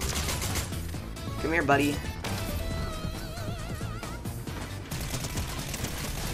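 Rapid SMG gunfire crackles in bursts through busy Fortnite video game action, mixed with impacts and effects while a person talks over it.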